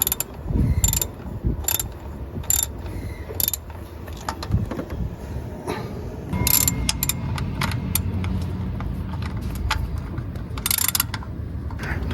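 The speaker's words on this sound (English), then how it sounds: "we're going to be using our size 15 millimeter socket to be removing those two bolts" A ratchet fitted with a 15 mm socket works bolts loose on a 2013 Chevrolet Tahoe, its close, rapid clicking coming in repeated bursts over garage clatter and low background rumble.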